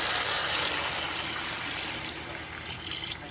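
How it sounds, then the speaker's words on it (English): Water pours from a tap into a cooking pan holding seasoned curry chicken, a continuous close splashing rush that eases slightly toward the end, with no talking. "We're going to add the water now,"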